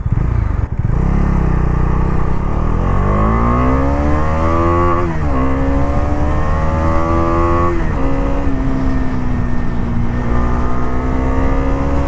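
Bajaj Dominar 250 motorcycle accelerating hard on the road, engine revs climbing in repeated rising sweeps with brief drops at each gear change, loud and close, mixed with wind rush.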